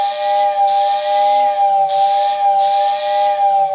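Steam whistle from a Lionel model train tender, rewired to run on AC from a switch controller, sounds loud and close as a continuous hissing whistle that swells and dips in four repeated pulses.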